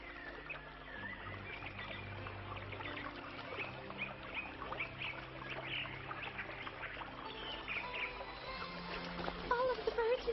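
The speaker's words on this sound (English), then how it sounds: "All of the birds in the area are coming to your rescue." A cartoon flock of birds gathering in the Cinderella Monogatari animated series gives a steady, dense chatter of chirps, quacks and clucks throughout, growing slightly busier toward the end.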